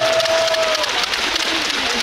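Volleyball fans applauding at an arena during a player's post-match address, a brief steady wash of crowd clapping with a faint tone and murmurs.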